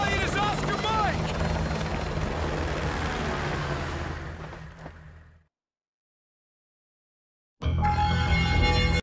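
Helicopter in the video game Call of Duty Modern Warfare 2, a loud continuous rotor roar with a steady low thump, fading out into silence midway before returning abruptly at full volume near the end.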